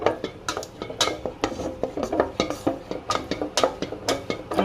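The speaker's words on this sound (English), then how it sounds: "You add ungo and you stir until it becomes thick" A spoon stirring abacha (African salad) mixed with ungo in a pot, producing a steady run of close scraping and clinking strokes against the pot with a wet, sticky undertone and no voices.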